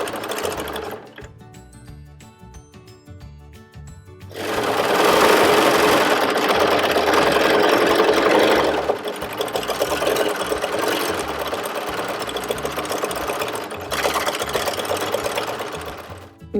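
A sewing machine stitches in free-motion quilting as fabric is guided in curves, its rapid needle hum steady and close, surging louder for a stretch, easing, then running on in bursts with short slowdowns.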